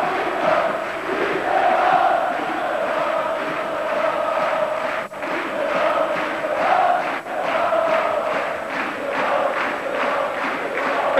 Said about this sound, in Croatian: pogledajte kako slave navijači sarajevskih plavi